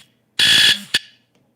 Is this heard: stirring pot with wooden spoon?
no